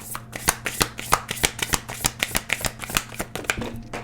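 A deck of tarot cards is shuffled in quick rhythmic riffles, each a crisp close flutter, repeating steadily about every third of a second without speech.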